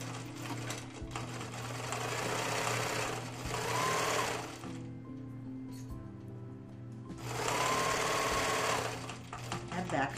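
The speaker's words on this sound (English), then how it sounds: "So put this in the machine, sew from bottom of the pocket to the top." An electric sewing machine stitches an apron pocket in two loud whirring bursts separated by a quieter pause, with faint voices in the background.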